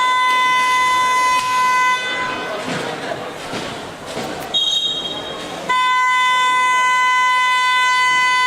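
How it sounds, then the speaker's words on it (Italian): A loud, sustained stadium siren sounds at a football match between Brianza and Seregno to call the teams back onto the field, blaring steadily, breaking off for a few seconds amid crowd noise, then resuming at full strength. "La sirena che richiama in campo le formazioni per questi ultimi 2 minuti e 5 secondi di gioco"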